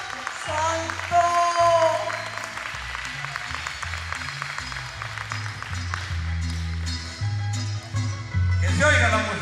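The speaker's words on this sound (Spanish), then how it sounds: "Dale palmas al Señor." A church revival congregation claps in praise over loud music with a deep bass line, as a voice carries on above the steady applause.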